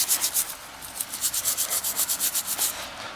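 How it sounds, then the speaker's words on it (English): Stiff long-bristled brush scrubbing a bike freewheel coated in citrus degreaser, quick rhythmic bristly strokes, close and fairly loud with a hissy, scratchy texture. "just take the citrus degreaser and just start scrubbing this sucker down"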